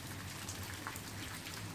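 Rain falls outside as a steady, soft hiss of drops on surfaces, even and continuous for a brief moment with no voices.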